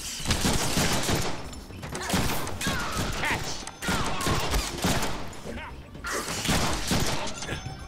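Rapid gunfire in the Deadpool video game: sustained volleys of loud, overlapping shots with crashing, mechanical clatter, continuing almost without pause, with occasional voices under the din.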